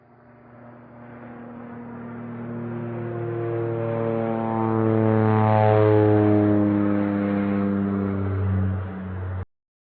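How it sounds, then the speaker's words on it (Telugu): A passenger flight coming in to land produces a steady engine drone with a tonal hum that swells toward the middle, eases slightly, then cuts off abruptly. "ల్యాండ్ అయిపోతుంది ఫ్లైట్."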